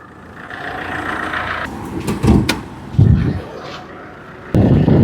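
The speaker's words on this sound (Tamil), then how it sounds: "இன்ஜின் ஸ்டார்ட் பண்ணி காட்டுறேன் பாருங்கள்" A used car for sale is handled up close: a few thumps and clatters, like a door and fittings, and then a loud, low engine roar starts abruptly near the end and keeps running. A voice speaks faintly earlier on.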